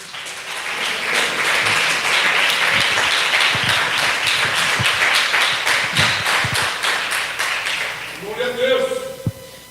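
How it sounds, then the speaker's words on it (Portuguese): Church congregation clapping hands joyfully in praise during a service, a sustained round of many hands with a loose rhythmic pulse, fading near the end as a voice speaks. "louve a Deus com as palmas bem alegres"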